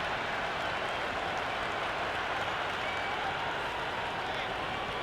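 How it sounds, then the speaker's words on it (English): A stadium crowd in the cricket video game Cricket 26 applauds a boundary four, a dense, steady roar of clapping and cheering that stays loud and even throughout. "The crowd is electric right now."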